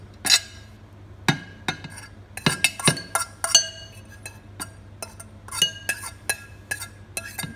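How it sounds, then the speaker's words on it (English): A utensil scrapes cheese off a plate into a bowl for a crustless quiche, making irregular sharp clinks and taps against the dishware, close by, with brief pauses between strokes and no talking. "And I'll hold the plate and you scrape the cheese in."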